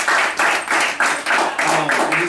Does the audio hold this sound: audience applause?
yes